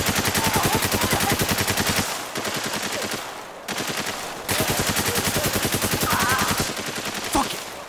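Sustained automatic gunfire in the video game Spec Ops: The Line, loud rapid bursts hammering almost continuously with brief gaps, close and dominant throughout.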